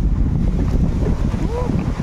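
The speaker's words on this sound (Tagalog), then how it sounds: "Grabe yung hangin." Strong wind roars and buffets the microphone in a constant low rumble, with a faint voice briefly audible underneath.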